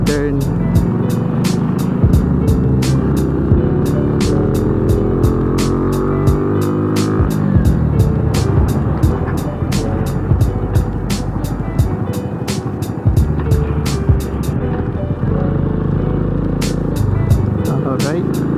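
A Kawasaki W175 SE motorcycle rides steadily with a loud, continuous engine drone and wind rush throughout, with regular sharp ticking clicks layered over the running engine.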